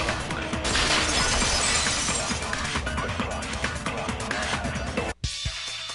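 A vase shatters in a video game, a loud burst of breaking glass with scattering shards and debris for several seconds, then a brief silence and a faint final tinkle.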